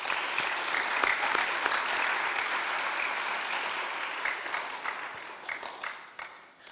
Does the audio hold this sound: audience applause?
yes